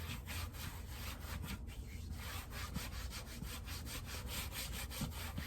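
Conditioner rubbed firmly into the tops of leather boots with quick, steady back-and-forth strokes, a continuous close scuffing rhythm with no talking.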